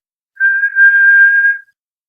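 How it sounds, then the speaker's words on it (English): A kettle on a stove gives a single clean, steady whistle lasting just over a second, loud and close against otherwise silent surroundings. "The kettle was just beginning to whistle on the stove."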